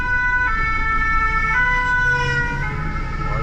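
A fire engine siren wails on a Marseille street, loud and close, its two-tone rising and falling pitch cycling steadily over low traffic rumble.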